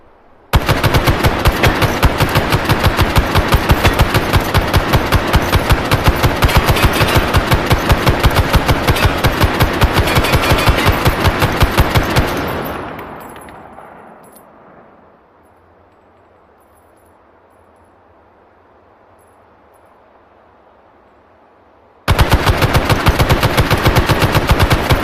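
Loud, rapid, continuous firing from large guns rattles on for about twelve seconds, tails off into near quiet, then bursts back in abruptly at full volume.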